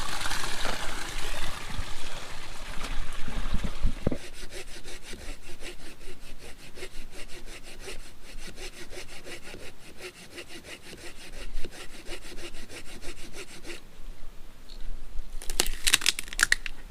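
A hand saw cuts through firewood outdoors on a mountain with a steady back-and-forth rasp, close and continuous, ending in a few brief knocks.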